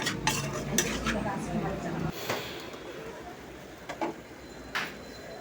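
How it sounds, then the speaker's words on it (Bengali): Raw mango pieces mixed with spices in a pot for pickle: close clattering spoon scrapes and knocks against the metal, with light sizzling and a voice talking underneath. "এবার আমগুলো ভালোভাবে মেশাবো মশলার সাথে।"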